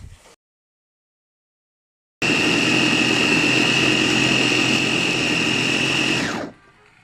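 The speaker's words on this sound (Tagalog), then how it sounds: "ilalagay na po natin dito sa food processor para gilingin natin" After a short silence, a food processor starts up loudly, grinding chopped vegetables in a steady high-pitched whir for about four seconds before spinning down.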